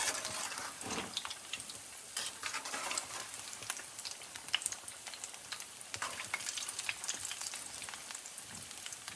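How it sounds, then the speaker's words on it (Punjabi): Spicy potato balls frying in hot oil, a dense continuous crackle and sizzle with occasional stirring, close and steady throughout. "ਇਸ ਤਰ੍ਹਾਂ ਆਪਾਂ ਇਹਨਾਂ ਨੂੰ ਫਰਾਈ ਕਰ ਲੈਣਾ ਹੈਗਾ"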